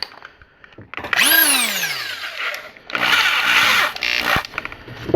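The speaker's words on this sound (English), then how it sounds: "I'm going to get a smaller bit and try not to drill my finger again" A power drill with a small bit whines up in pitch and spins down, then runs again in a second longer burst, loud and close.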